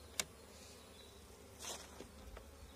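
Honeybees at an open hive during an inspection, a faint diffuse buzz with a few sharper nearby wingbeats and soft clicks against the background.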